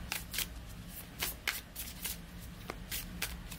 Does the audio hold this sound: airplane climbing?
no